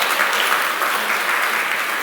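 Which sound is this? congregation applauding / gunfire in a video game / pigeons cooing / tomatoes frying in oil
congregation applauding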